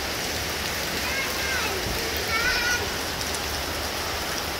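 Steady outdoor rain falls in a continuous soft hiss while children play in it, with faint voices and brief chirpy sounds rising now and then over the even patter.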